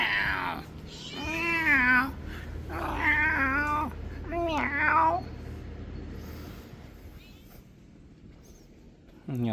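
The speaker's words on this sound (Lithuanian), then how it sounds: "Turi savo asmeninį katiną." A cat in Zygi, Cyprus meows four times in a row, each call drawn out and rising and falling, close and clear against a quiet background.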